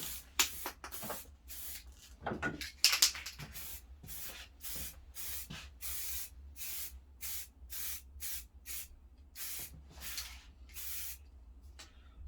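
Primer is sprayed onto the chrome trim of an R50 Mini Cooper in a long series of short, close aerosol bursts with a hissing, irregular rhythm and brief pauses between passes.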